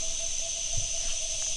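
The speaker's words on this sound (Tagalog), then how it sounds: "may ibon pang tumunog guys" A bird calling outdoors at night in a rural area, a faint, brief call over a steady backdrop of insect buzzing and a thin constant whine.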